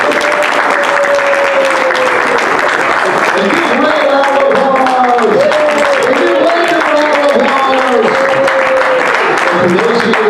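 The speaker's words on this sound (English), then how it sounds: "let's give him a loud applause" Loud, sustained audience applause at a real estate investors' meetup for a guest speaker, dense clapping throughout with a tonal sound wavering above it.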